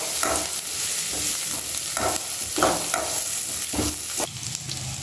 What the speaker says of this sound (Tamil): இப்போ எல்லாத்தையும் சேர்த்து நல்லா வதக்கிக்கலாம்.